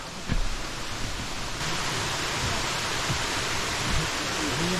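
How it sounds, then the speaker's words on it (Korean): Steady roar of Bogodong Falls near Seokryongsan, South Korea, a dense continuous rush of falling water filling the whole clip, close and fairly loud. "보고동 폭포입니다"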